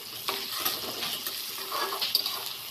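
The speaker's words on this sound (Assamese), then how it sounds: "এইখিনি যেতিয়ালৈকে কেঁচা গন্ধটো নাযায় তেতিয়ালৈকে ভাজিয়ে থাকিম" Ginger-garlic paste fries with browned onions in a pan, giving a steady close sizzle with a few soft stirring scrapes and clinks throughout.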